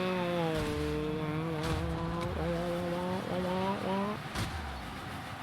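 A person's voice mimics a car engine while playing Rocket League, droning and rising in pitch with several revving swoops, close and continuous over faint game sound.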